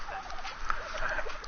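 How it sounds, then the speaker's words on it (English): A dodo bird in the video game ARK gives a short gobbling, clucking call, fairly loud and close, repeating in quick bursts for under two seconds. "Dodo bird in the house."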